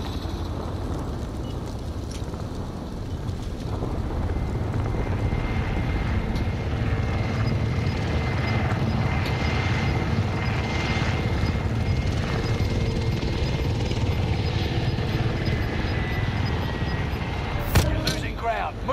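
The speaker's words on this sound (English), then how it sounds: "Enemy supply choppers above." Enemy supply helicopters pass overhead in a battle-royale video game, their rotors making a continuous loud rumbling drone that holds steady throughout, with a brief sharp noise near the end.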